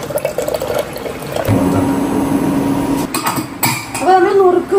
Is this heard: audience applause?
no